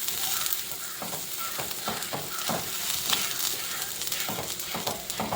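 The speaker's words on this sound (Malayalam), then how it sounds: "ഒരു 2 മിനിറ്റ് ജസ്റ്റ് ഒന്ന് വഴറ്റി കൊടുക്കാം." Spices and masala sauté in a pan with a steady, close sizzle broken by repeated scraping stir strokes, continuous throughout.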